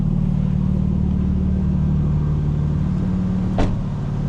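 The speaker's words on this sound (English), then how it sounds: "Keep the car running." A 2025 BMW M4 Competition xDrive idles with a steady low rumble, close by, with a brief higher-pitched whine near the end.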